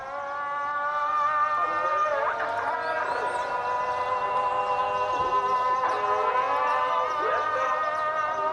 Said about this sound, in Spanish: surge el genuino sonido del Islam, el canto de los muecines llamando a la oración